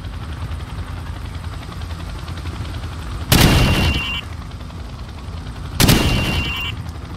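Two sharp, loud rifle shots fired while aiming down sights at a Call of Duty 4: Modern Warfare training range, each a close crack with a short tail, a few seconds apart over steady background ambience.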